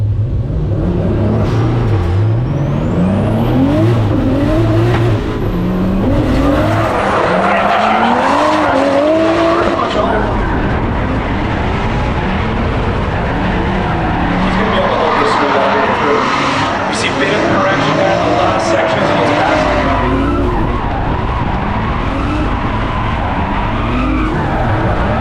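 A 2JZ-powered Nissan S14 drift car runs at a drift event in California, its engine note sweeping up and down continuously while tires screech and skid, loud and close, with crowd noise or commentary-like voices mixed underneath.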